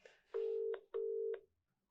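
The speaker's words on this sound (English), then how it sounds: "Call is waiting, so that means he's on the phone." A telephone call-waiting tone sounds as two steady electronic beeps, each about half a second long, clear and alone, with a faint murmur just before them.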